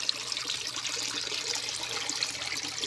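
Clean water spills steadily over the edge of a clogged water filter, a continuous light trickle and splash, moderately close and without voices.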